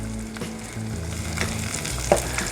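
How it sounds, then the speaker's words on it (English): Onions soften and sizzle in a pan, a steady, close frying hiss with a faint low hum beneath and one sharp click near the end. "And here I'm just softening the onions and also drawing a bit of flavor out of them into the pan."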